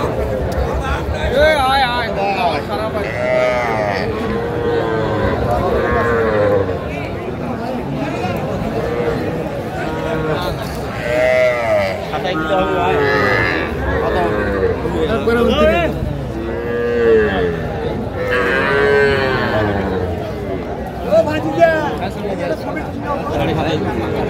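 Four-month-old Sahiwal bull calf mooing repeatedly at a busy cattle market, loud close bellows over crowd chatter and bargaining voices.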